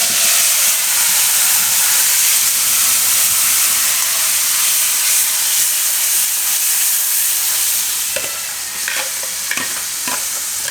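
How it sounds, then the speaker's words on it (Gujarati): Onion-tomato puree drops into hot oil and sizzles loudly and continuously, a dense frying hiss with occasional stirring clicks and scrapes near the end. "હવે આમાં આપણે જે પ્યુરી હતી ડુંગળી ટમેટાની એ નાખી દઈએ."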